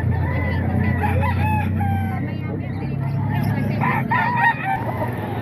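Chickens and roosters at a busy market tiangge cluck and crow in overlapping calls over a low rumble of traffic and crowd, with people talking throughout.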